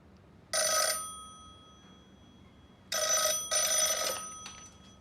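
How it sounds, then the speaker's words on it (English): A telephone bell rings in two loud bursts with a short gap and a quick second ring, sharp and close, with no talk over it. "The phone will ring."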